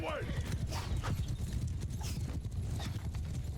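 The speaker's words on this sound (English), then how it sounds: "Horse archers coming through." Horse archers' hooves clip-clop in quick, rhythmic patter during a Mount & Blade II: Bannerlord battle, steady and fairly close, with faint battle noise around them.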